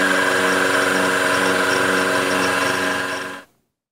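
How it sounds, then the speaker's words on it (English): A milling machine with a roughing cutter grinds a notch into the underside of a metal workpiece for a saddle block. It makes a loud, steady, close mechanical drone with a tonal hum, then abruptly cuts off near the end. "here roughing out a notch on the bottom of the workpiece for the other leg of the X-axis lock"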